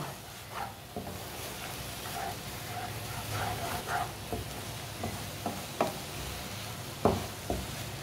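Eggs stirred and cooked in a pan give a steady low sizzle with scattered clicks and scrapes of a utensil against the metal, close and moderately quiet with no talk.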